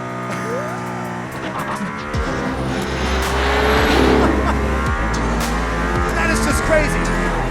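Mercedes-AMG ONE race car on a circuit in Barcelona, engine loud and continuous with rising harmonic tones as it accelerates hard, heard from close by with a steady roar throughout.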